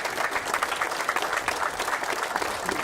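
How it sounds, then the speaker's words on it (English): An audience at an indoor announcement event in Lexington applauds, a dense, fairly quiet patter of many hands clapping steadily throughout. "Give yourselves a big round of applause."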